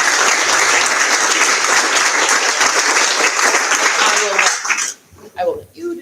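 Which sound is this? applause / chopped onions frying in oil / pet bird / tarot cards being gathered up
applause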